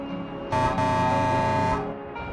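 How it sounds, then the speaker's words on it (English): A truck horn sounds in the space trucking game Star Trucker, one loud, steady blast of about a second and a quarter over a continuous engine drone, with a fainter tone trailing after. "Honk for your fellow truckers."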